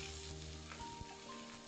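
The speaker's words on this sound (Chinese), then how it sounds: "起锅烧油，油温在150度左右，倒入秋葵和辣椒，" Okra and chili peppers stir-frying in oil at about 150 degrees, a steady close sizzle with faint scrapes and clinks of the utensil, no voices.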